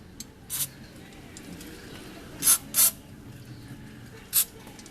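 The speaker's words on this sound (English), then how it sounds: "I'm going to take my throttle body and air intake cleaner, and I'm going to spray." Several short, sharp hissing bursts of aerosol throttle body cleaner sprayed onto a 1995 Mazda 626 throttle body, one early, two close together in the middle and one near the end, over quiet background.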